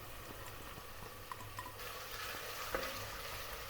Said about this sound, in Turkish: Sarımsağımızı ilave ediyorum